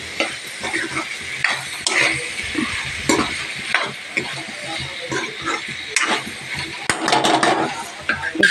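Tomatoes are added to okra curry frying in a pan, and it is stirred; a close, steady sizzle runs under repeated scraping strokes, with a few faint bits of voice.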